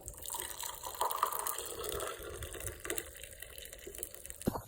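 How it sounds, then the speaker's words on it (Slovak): Steaming hot water poured into a container until full, a continuous busy liquid gush and splash, close and fairly loud. "Sem voda. Až do plna."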